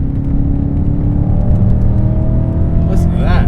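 A BMW E39 M5 engine with bolt-on modifications drones with a low, rumbling exhaust tone that rises slightly as it accelerates, heard from inside the cabin, with a voice briefly near the end.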